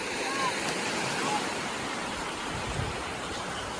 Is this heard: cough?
no